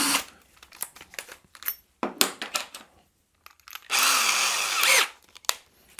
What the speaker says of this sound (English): you can do these sort of holes with a combi drill